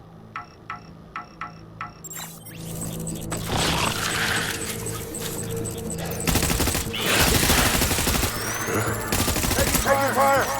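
Gunfire erupts in the Death Stranding video game, opening with a few sharp spaced beeps before dense bursts of automatic fire and impacts build into a loud, continuous barrage that runs to the end.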